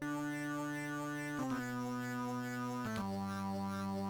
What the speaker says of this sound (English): the Growl Rough effect sounds like this.